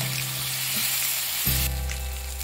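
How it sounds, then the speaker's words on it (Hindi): Tomatoes fry in a pan with salt, turmeric and red chili powder for a paneer mustard gravy, giving a close, continuous sizzle. A brief stir or shift partway through makes the bubbling louder and fuller. "टमाटो को अच्छे से कुक होने देंगे।"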